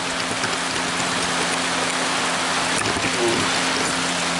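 Steady rain falls outdoors at Dale Hollow lake, a dense, even hiss of drops filling the scene with a low constant hum beneath it.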